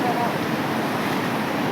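Flood water rushes over a road, a steady loud broadband roar with no breaks, close to the listener.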